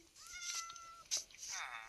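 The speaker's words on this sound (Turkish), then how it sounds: "Böyle ay çok sevimli kedi." A cat meows a few times close by, drawn-out and high, with a short sharp sound in between; no speech.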